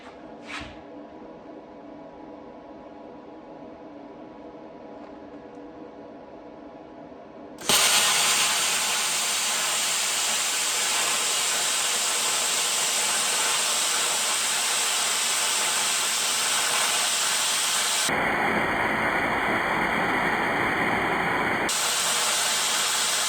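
A Bestarc plasma cutter slicing through metal produces a loud, continuous broadband hiss and roar that starts abruptly after a quiet stretch and holds steady, with a brief tonal shift near the end.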